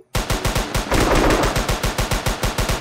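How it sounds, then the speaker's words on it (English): Rapid automatic gunfire rings out in a WWII video game, a loud close burst of evenly spaced shots firing in a fast steady rhythm for nearly three seconds without pause. "Returning fire!"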